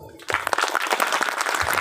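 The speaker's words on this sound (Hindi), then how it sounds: "उनके नाम पर ताली बज जाए।" A crowd at a religious Gau katha gathering in Begusarai, Bihar breaks into applause, a dense, steady burst of many hands clapping that starts abruptly and carries on loudly to the end.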